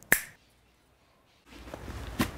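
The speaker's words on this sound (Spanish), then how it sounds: "¿Por qué ese chasquido?" A single sharp finger snap near the start, then a pause, then low indistinct sound with a second crisp snap-like click near the end.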